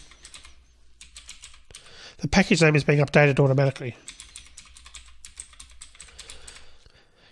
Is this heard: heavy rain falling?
no